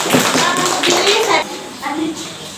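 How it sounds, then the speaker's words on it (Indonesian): Children in a classroom clap together in a quick burst of applause while young voices chatter over it, the clapping thinning out toward the end. "Tepuk tangan dulu untuk kelompok hidung."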